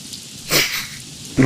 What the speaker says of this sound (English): And it's suddenly raining.